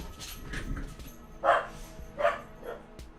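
Dogs barking in a room, a few separate loud barks spaced about a second apart, with softer yips and whimpers in between and quiet background.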